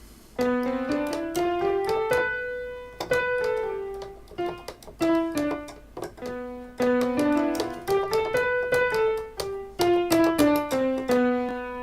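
A piano plays the Locrian mode scale in single notes climbing and then descending at a steady, unhurried pace, repeated twice with no other sounds.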